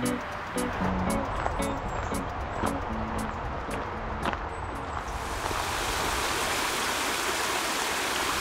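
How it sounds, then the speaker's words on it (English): Little Hunting Creek, a brook trout stream in Cunningham Falls State Park, rushes in a steady, broad wash of flowing water, close and constant, with a voice heard briefly early on. "I'm following along Little Hunting Creek, which is known for native brook trout."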